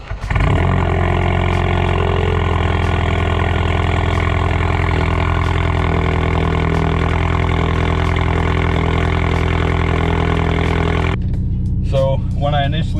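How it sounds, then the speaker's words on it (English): A modified Ford Focus RS with a rebuilt engine cold-starts and holds a loud, steady high idle for about eleven seconds close by, then the engine sound drops away as a voice begins speaking over a quieter background. "I think we're gonna do a little cold start"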